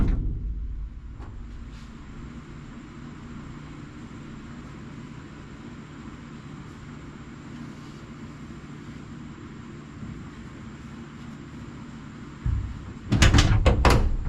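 The door of a 1982 Dodge Ramcharger, freshly refitted after hinge repairs, thuds shut near the end with a sharp, loud slam, following a long stretch of quiet low background hum.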